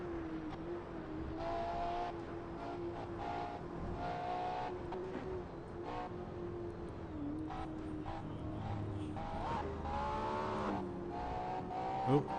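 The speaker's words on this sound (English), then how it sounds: "I love how this engine sounds in the tunnels." A car engine in the Assetto Corsa racing game echoes through the Shutoko expressway tunnels, droning steadily with rising and falling revs throughout, loud and continuous with no gaps.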